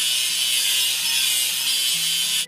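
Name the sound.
grinding a welding seam on a crane, video game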